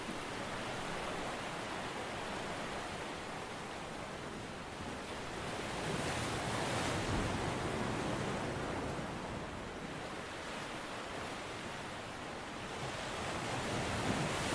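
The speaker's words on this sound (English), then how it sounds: "enjoying the sound of the lapping waves" Gentle summer waves lap against the shore in a steady, soft wash of surf, swelling and easing slowly over a continuous breezy hiss, calm and fairly faint with no voices.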